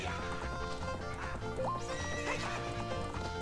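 In Zelda: Ocarina of Time, a horse gallops with rapid clip-clopping hooves and gives a clear neigh partway through, all set over the game's background music.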